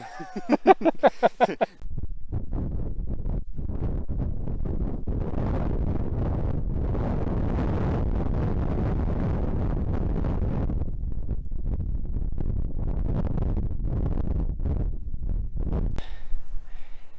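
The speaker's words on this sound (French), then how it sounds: "Alors il y a un petit peu de vent, mais ça fait du bien." Wind buffets the microphone on a hike up Sainte-Victoire, a steady low rumbling roar lasting most of the clip, with a brief voice at the very start.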